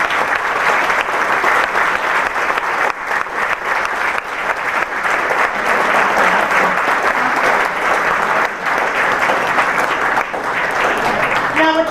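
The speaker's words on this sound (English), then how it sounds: "We would appreciate a round of applause for all of the committee members." A gala audience applauds committee members with sustained, dense applause from many hands that holds steady and loud for about twelve seconds, with a voice faintly heard beneath it.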